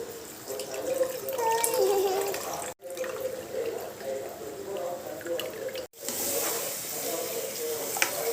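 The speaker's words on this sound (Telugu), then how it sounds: "చింతపండు రసం పోస్తున్నాం" Tamarind water pours and splashes steadily into a pan of stuffed brinjal curry in a few continuous stretches separated by brief pauses, close and fairly soft.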